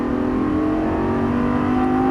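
Lamborghini Gallardo Superleggera LP570 at full throttle on a racetrack, a loud, close engine roar with sustained rising tones, continuous for about two seconds, no voices.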